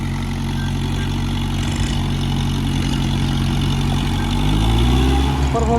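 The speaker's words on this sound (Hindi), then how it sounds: "मुझे भी विश्वास नहीं हो रहा कि ट्रैक्टर 10 फीट का रोटावेटर चला रहा।" Kubota MU4501 45 HP tractor driving a 10-foot rotavator, a loud steady low engine drone with a slight rise in load near the end, heard alone without talk.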